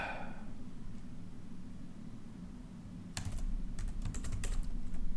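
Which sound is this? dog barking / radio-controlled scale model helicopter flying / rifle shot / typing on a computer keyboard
typing on a computer keyboard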